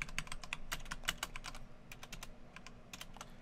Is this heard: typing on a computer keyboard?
yes